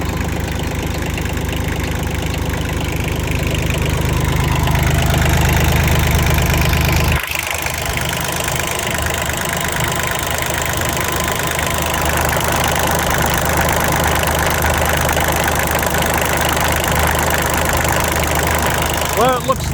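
A Kioti LB1914 tractor diesel engine idles after starting up, a steady low rumble with a slight knock that runs throughout, shifting in tone midway, while a person talks over it.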